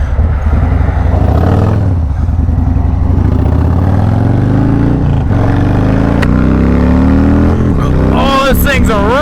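Harley-Davidson Low Rider S motorcycle fitted with a Red Shift 468 cam, its engine loud and close, revving and pulling through rising gears with continuous rumble throughout.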